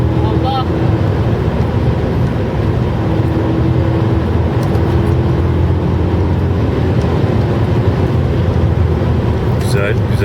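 Inside a BMW M5 switched to sport mode, a steady, loud engine drone and road roar run continuously, and voices talk faintly over it.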